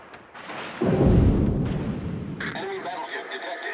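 Warship main guns fire in a close-range World of Warships ranked battle: a single deep, booming salvo with a rolling rumble that fades, followed by brighter battle and interface sounds.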